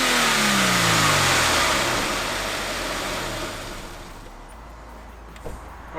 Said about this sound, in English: let's have a bit of a sound clip now of the additional noise you'd get with the airbox we got.